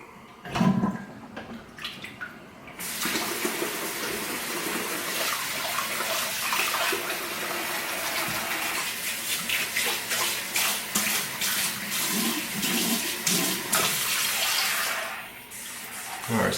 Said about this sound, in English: So I'm just gonna rinse this side.